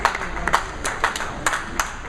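A bowler claps for himself at a bowling tournament, a handful of sharp close hand claps in an uneven rhythm over steady background noise from the bowling center.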